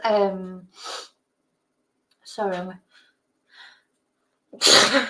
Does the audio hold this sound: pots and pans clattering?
no